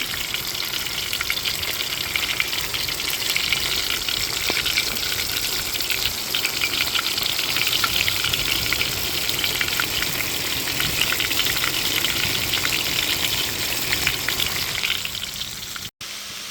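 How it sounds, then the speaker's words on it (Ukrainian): Chicken nuggets fry in hot oil for a chicken dish, giving a loud, steady sizzle and crackle that runs continuously with no talk. "Олій розкалився, кидаємо наші наші нагетси."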